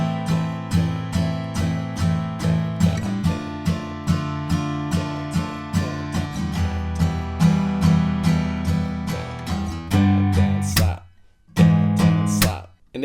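An acoustic guitar strums the second line of a pop song in a steady down-down-slap pattern, each percussive slap cutting sharply between ringing chords, with a short pause near the end before the strumming resumes.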